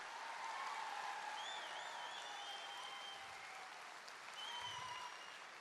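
A large audience at a Safeshop Success Day event claps steadily and continuously, a dense wash of applause that carries on without pause.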